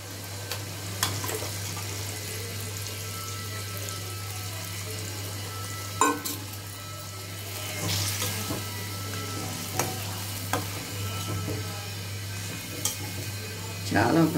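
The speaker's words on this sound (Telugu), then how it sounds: "ఇప్పుడు ఇలా మనం మటన్ వేసేద్దామండి. ఇది 1/2 కిలో మటన్ అండి." Half a kilo of mutton tipped with its water into a pan for curry gives a soft, steady sizzle over a low hum, broken by a few sharp stirring clinks and scrapes.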